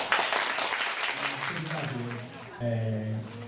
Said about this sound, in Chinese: 我们掌声欢迎台铭